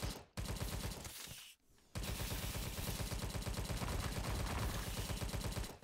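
Rapid, dense gunfire with bullets ricocheting off walls in the video game Tesla vs Lovecraft, a continuous loud rattling stream broken by two brief pauses, with no talking.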